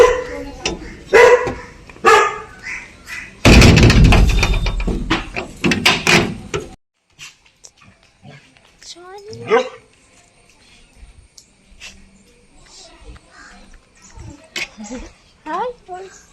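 A dog barks in short sharp bursts close by at the start, then quieter yelps and whimpers follow after a loud rushing noise, with people talking through parts of it.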